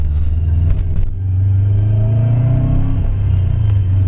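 A white Nissan GT-R R35 drives past on a street, its loud engine rumbling low and steady with a brief rise around the middle, the sound holding close and strong for the whole few seconds.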